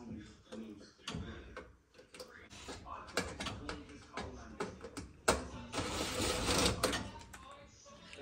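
Phillips #1 screwdriver backing screws out of the spark module on a Fisher Paykel gas oven, giving a run of close, irregular metallic clicks, scrapes and small clanks with no talking.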